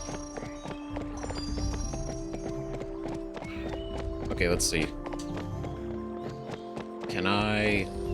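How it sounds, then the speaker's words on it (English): Horse hooves clip-clop and a brief whinny from a mount ridden in the video game Baldur's Gate 3, mixed with game music and ambience while a person talks over it. "it's harder to drive a horse than you think"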